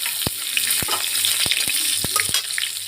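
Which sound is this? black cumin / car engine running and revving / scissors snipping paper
black cumin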